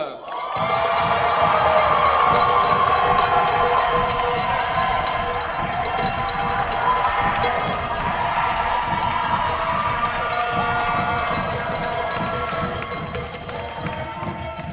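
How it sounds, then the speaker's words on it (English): A football stadium crowd at a Euro 2026 men's match between Switzerland and Italy applauds and cheers loudly and continuously for the Swiss team, with rhythmic clapping and cowbells ringing throughout. "un tonnerre d'applaudissements pour l'équipe de Suisse"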